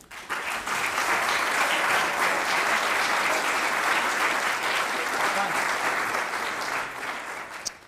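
Sustained applause from a lecture audience at Oregon State University welcoming a speaker to a talk on genetically engineered crops, dense steady clapping that fills the room and fades near the end.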